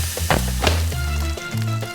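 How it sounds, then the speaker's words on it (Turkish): Potatoes frying in the Shawarma Legend cooking game, a steady sizzle under synthetic game tones and a few short clicks, close and fairly loud. "Hemen şuradan patatesleri soyup kızartmayla başlayalım."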